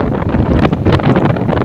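Strong wind buffeting the microphone on Mount Love in Santo Niño, Dapitan City, a loud continuous rumbling roar with gusty bursts and rustling, no voices present.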